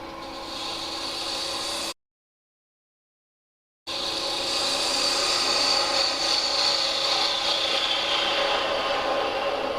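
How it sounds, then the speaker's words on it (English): A spindle gouge cuts a spinning wooden spin top on a wood lathe while forming its pointed tip, making a steady whirring, hissing drone that stops briefly and then continues, with no one talking. "I'm going to go straight with my spindle gouge."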